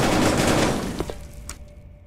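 Gunfire crackles in a VR shooting game, a dense burst of rapid shots that thins out into a few scattered pops before falling quiet.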